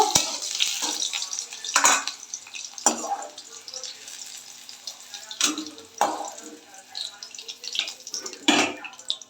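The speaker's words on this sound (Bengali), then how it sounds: "উচ্ছেগুলো ভাজা হয়ে গেছে এবার তুলে নেব" Fried bitter gourd stirred and lifted out of a pan, with a few loud scraping, clattering spatula strokes spaced a second or two apart over a soft, steady sizzle.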